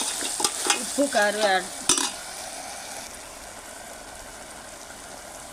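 Goat head curry frying in oil while being stirred, a continuous hiss of sizzling with scraping under a voice at the start, then the frying carries on alone and steady.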